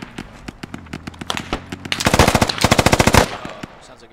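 Gunfire in the military video game Squad, a run of sharp single shots that builds into a loud rapid automatic burst before tapering off, followed by a grenade explosion's rumble, with no talk over it.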